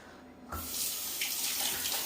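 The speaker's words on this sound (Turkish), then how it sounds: "ellerimi yıkayayım" Tap water runs steadily into a sink for hands being washed, starting abruptly with a soft clunk and then flowing on as a close, even hiss with no talk.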